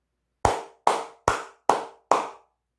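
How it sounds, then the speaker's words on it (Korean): Five loud, sharp hand claps in a steady, evenly spaced rhythm, each with a short decaying tail, heard close up with no talking. "매우 기분 좋은 소식이기 때문에 크게 박수 한번 치고 가도록 하겠습니다"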